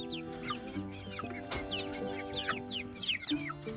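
Chickens in a breeding pen, a mix of white store-bought birds and brown home-hatched hatchlings, clucking and chirping continuously close by, with overlapping calls and a brief louder squawk midway.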